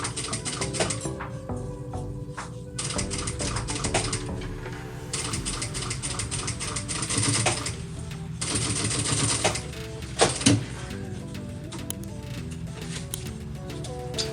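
Sewing machine stitching a cross bag, with quick rattling runs of stitches that start and stop several times, close and steady, with faint handling clicks between bursts.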